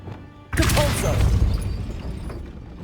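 The Depulso spell goes off in Hogwarts Legacy, a sudden loud blast with a crashing, shattering burst that rumbles and slowly fades over the next couple of seconds.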